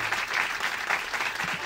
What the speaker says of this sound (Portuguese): só um de palmas pro Petraque.